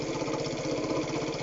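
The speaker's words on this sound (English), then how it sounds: "I am hearing a bit of a clunky noise coming out of the engine when it's at low revs" Honda Cub 90 engine running at low revs with a clunky knock, a steady close mechanical chug with regular low pulses throughout, no talk.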